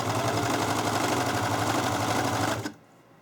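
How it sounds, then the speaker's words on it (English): A serger sewing machine stitching along fabric edges for a car seat canopy, a fast loud mechanical whirring hum that runs steadily, then stops abruptly near the end. "So I'm going to go ahead and start serging."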